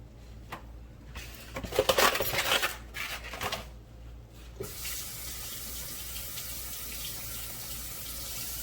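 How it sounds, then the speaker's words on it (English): Running tap water splashes over hands being washed at a kitchen sink during meatball preparation, a close irregular gush that settles into a steady flow. "I had to wash my hands again, family, because I touched the egg carton."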